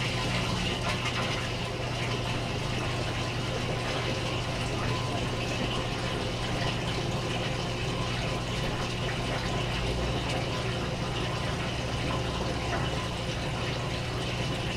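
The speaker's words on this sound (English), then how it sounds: "the 11th press will just activate the drain pump and it should just drain the tub" Steady, continuous gushing water and pump hum as the drain pump of an LG front load washer empties the tub during a self-test mode, loud and unbroken throughout with no talking.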